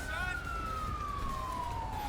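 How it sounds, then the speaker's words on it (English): Police car siren in the video game GTA 5, a steady wail sliding slowly downward over continuous road rumble, loud and close. "get these damn sirens off"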